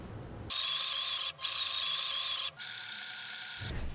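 A sewing machine stitches a zip-up hoodie in three steady whirring runs, each separated by a very short pause. The whir sounds close and continuous, with no talk over it.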